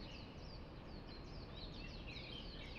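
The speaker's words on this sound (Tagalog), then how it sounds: "Sobrang ingay-ingay ng mga ibon dito sa amin, guys. Diyan sa baba, sa park." Birds chirp and tweet in a park below on an early Hong Kong morning, the quick high calls faint and continuous over a steady broadband hiss, with no one talking.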